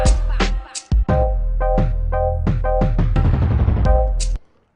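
A jungle drum beat built in DUBturbo music software plays loud and up close, with punchy, rapid kick and snare hits over deep bass, ending abruptly.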